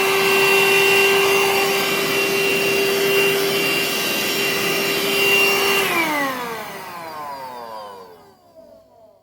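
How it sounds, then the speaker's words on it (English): A Parkside PHSSA 20-LI A1 cordless vacuum cleaner runs with a loud, steady high-pitched whine close by, then is switched off and its motor winds down with a falling pitch until it stops. "Let's see how powerful is the vacuum cleaner."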